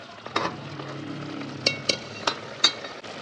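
Karahi beef masala is stirred in a pan over soft sizzling, with a few sharp scrapes and clacks of the spoon against the metal, close and without talk.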